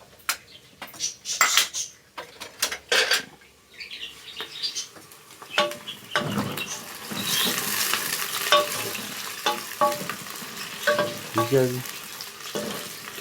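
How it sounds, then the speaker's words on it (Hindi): Onions fry and brown in a pan with a continuous close sizzle, punctuated by repeated spoon scrapes and metallic clinks against the pan; a voice says a few words briefly near the start. "हम अपने प्याज की तरफ देखेंगे और प्याज को यहाँ पे ब्राउन करते हैं।"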